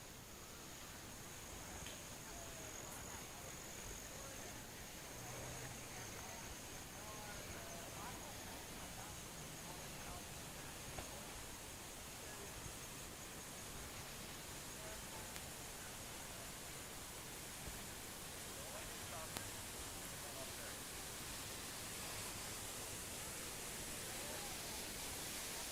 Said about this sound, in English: let's walk towards the sound of the waterfall